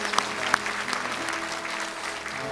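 A Sunday worship congregation at a Korean church in Irvine breaks into applause, a full, continuous clatter of many hands with a couple of sharper claps near the start and soft sustained tones humming underneath.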